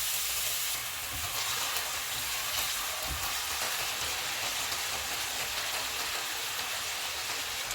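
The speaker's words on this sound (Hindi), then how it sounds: "ऑयल गर्म हो गया, इसमें आलू डालेंगे। चूल्हे को मीडियम रखेंगे और इनको 2 से 3 मिनट तक फ्राई करेंगे।" Potatoes frying in about a third of a cup of hot oil over a medium flame for an Afghani omelette, giving a dense, continuous bright sizzle that stays steady and close throughout, with no voices.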